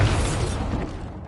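A Bombarda spell in Hogwarts Legacy erupts as a single dense, crackling blast that fills the space loudly, then rumbles and fades over about a second.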